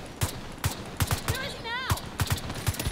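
Powerful single shots from a gun in The Division 2 game crack out one at a time in a steady rhythm, loud and close, with a brief rising electronic whine between some shots.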